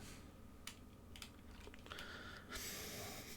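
Scattered keystrokes on a computer keyboard, quiet and irregular, with a soft hiss of breath or noise near the end.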